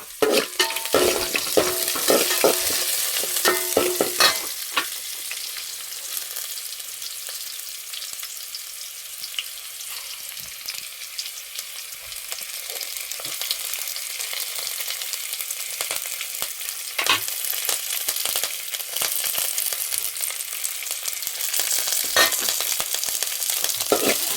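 Continuous crackling sizzle of food frying in a pan, with frequent scraping stirs, loud and close throughout.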